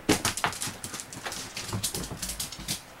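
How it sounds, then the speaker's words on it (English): A dog and a cat chase each other around a room, giving quick scrabbling and thumping paw steps on the floor with short bursts of scuffling, close and moderately loud, with no talking. "the cat and the dog are chasing each other"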